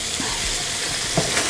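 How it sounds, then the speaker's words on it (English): Salmon croquettes sauté in a pan, giving a steady close hiss of frying with a couple of soft clinks near the end. "let that saute right there"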